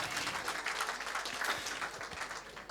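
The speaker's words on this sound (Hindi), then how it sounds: "जोरदार तालियां बजाते रहिए" Audience applause fills a hall at a Sanskrit quiz during the Mahakavi Magha festival 2023, steady dense clapping from a crowd throughout, fairly loud and close, with no speech over it.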